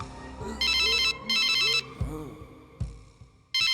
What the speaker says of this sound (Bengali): প্রিন্সিপাল কুমা ফোন দিছে